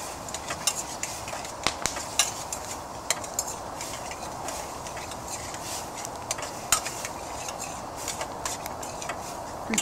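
Mince is stirred around a Dutch oven, giving quiet, irregular scraping and tapping of a utensil against the pot over a low sizzle, close by with no voices.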